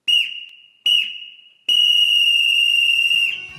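Referee whistle closing a football-themed podcast episode: two short sharp blasts followed by one long sustained blast, loud and clear with no voices around it.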